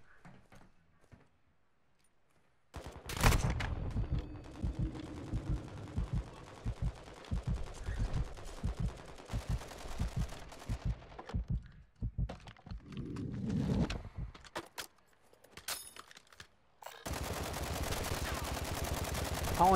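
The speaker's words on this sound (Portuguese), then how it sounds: "O boot tá me dando tiro aqui." Bursts of automatic gunfire from an AI-controlled enemy in the Warzone DMZ game crackle in rapid repeated volleys, with short pauses between strings of shots and a louder, denser stretch near the end.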